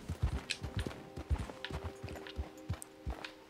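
Horse hooves clip-clop in Red Dead Redemption 2, a series of near, distinct hoof strikes in an uneven walking rhythm, fairly soft over a faint low hum.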